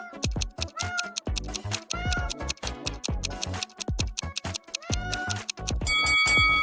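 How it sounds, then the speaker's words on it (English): A cat meows in short, repeated cries amid sharp clicks and tapping, close and fairly loud, ending in a steadier tonal note. "one of the residents complains about hearing cats from the neighboring apartment"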